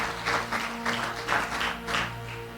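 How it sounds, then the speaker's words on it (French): A church congregation claps for the Lord at a Sunday service in a steady rhythmic pattern, with bursts of clapping rising and falling over a constant low hum. "Let's clap for the Lord."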